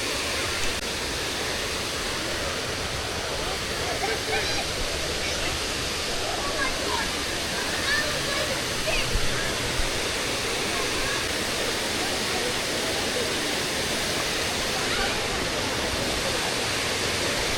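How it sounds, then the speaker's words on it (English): Rutledge Falls roars steadily and loudly, a constant wash of rushing water that fills the whole scene without pause. "I have to say that waterfall is stunning."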